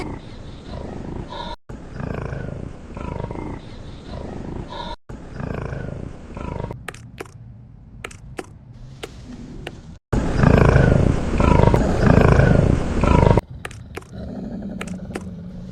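A tiger roars in a Tamil animated children's story, heavy loud growling bursts that swell and fade, with a louder stretch near the end, alone with no talk.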